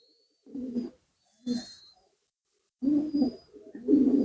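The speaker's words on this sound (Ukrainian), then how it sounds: "Голуб'яти, голуб вяхра. Такий чудовий, дикий голуб." Two short low coos, then a longer run of soft, hooting wood pigeon calls after a pause, fairly close and with no talking.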